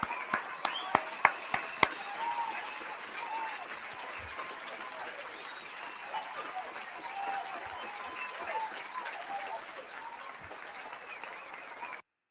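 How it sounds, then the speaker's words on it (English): Applause rises from an audience on a commentary show, opening with several loud, sharp claps before settling into a steady, moderately loud wash of clapping that carries on for the full stretch. "Make sure y'all clap it up, bro."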